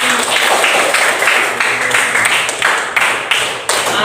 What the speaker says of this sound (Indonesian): tepuk tangan untuk kelompok Melati